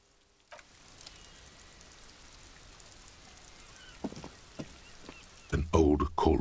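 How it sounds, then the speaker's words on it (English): Steady light rainfall in the video game Disco Elysium, a soft continuous patter with a few sharper drips, then louder bursts of heavier splashing near the end. "This rain will not let up anytime soon."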